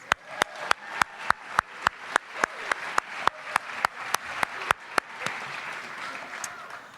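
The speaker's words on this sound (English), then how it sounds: "Let's give them a round of applause." Applause at a university fall convocation for an academic year kickoff, starting with a steady series of sharp, evenly spaced loud claps that build into a denser crowd applause before thinning out.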